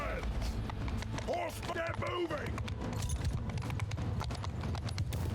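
Rapid clip-clop of many horse archers' hooves galloping in Mount & Blade II: Bannerlord, a dense, continuous rhythm with battle noise and clatter mixed in.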